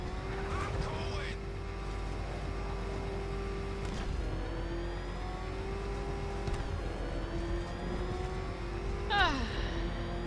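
A car engine revs and whines in Batman Arkham Knight, with rising and falling pitch sweeps and a sharp rise near the end, loud and sustained beneath game sounds.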